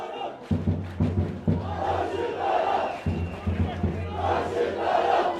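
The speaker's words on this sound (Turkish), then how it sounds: "Şampiyon tezahüratları yükseliyor." Football crowd in the stands chanting championship chants at a Turkish amateur match, with rhythmic massed voices rising and falling and bursts of clapping, heard in the distance under a broadcast commentary feel.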